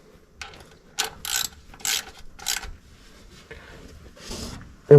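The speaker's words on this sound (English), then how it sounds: "Grab our ratchet." A hand ratchet tightens the oil drain plug on a 1997 Chevy OBS 2WD truck with a 4.3L Vortec engine, giving several short bursts of crisp clicking strokes up close with brief pauses between.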